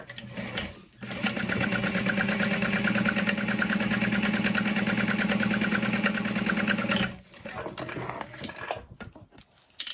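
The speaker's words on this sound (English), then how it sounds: "I'm going to sew this together." A sewing machine runs steadily for about six seconds, stitching the back panel of a Trailblazer backpack, then stops and is followed by light handling clatter.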